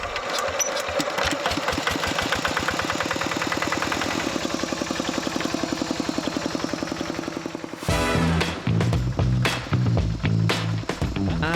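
A mini tractor engine pulling a rear cart runs steadily with a rapid chugging rhythm, then shifts to a rougher, louder tone partway through, close by, at the foot of a mountain in Situbondo, East Java.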